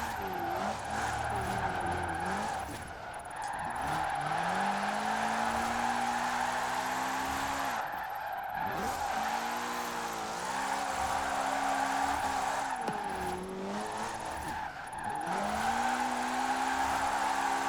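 Racing game car from Forza Horizon 4 revving hard and sliding, engine note climbing and dropping through repeated gear changes with brief tire skids, loud and continuous throughout.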